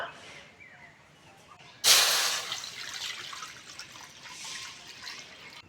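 Water poured into a pot of potatoes set to boil: a quiet start, then a sudden loud rushing splash that settles into a steady, hissing trickle.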